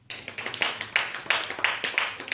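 A church seminar congregation claps together at a pastor's prompting, producing a brief, fairly close burst of rhythmic hand claps with a steady, quick beat.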